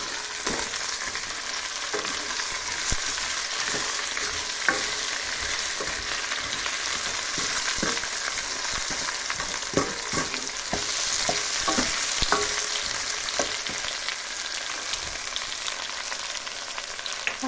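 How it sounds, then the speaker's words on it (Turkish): Broccoli soup ingredients being stirred in a pot, steady sizzling with repeated spoon scrapes and taps against the pot throughout, no talking. "arkadaşlar karıştırmaya devam ediyoruz"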